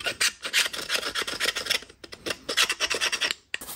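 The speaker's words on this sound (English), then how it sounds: "now I'm going after it with this heavy-duty Scotch-Brite" Heavy-duty Scotch-Brite pad scrubbed over a milling machine surface soaked in degreaser, a close rhythmic rasping rub in quick back-and-forth strokes with a brief pause midway.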